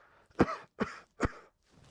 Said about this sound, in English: now cough